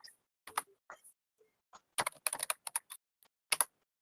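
Keys clatter on a computer keyboard in irregular bursts of typing, short pauses between clusters of clicks, close and fairly quiet with no talking.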